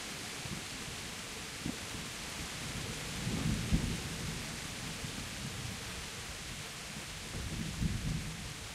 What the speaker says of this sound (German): Oh, heftige Gewitter.